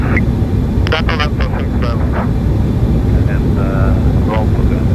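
A passenger aircraft on a night landing approach, heard from inside the cockpit as a loud, steady low engine and airflow rumble, while radio chatter and crew voices talk over it.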